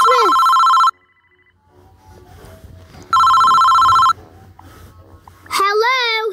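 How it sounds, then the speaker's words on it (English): A phone ringtone plays in two loud, steady bursts of ringing, separated by a quieter gap, in a cartoon-style prank-call scene, followed by a synthetic voice speaking. "Oh no, my phone's ringing."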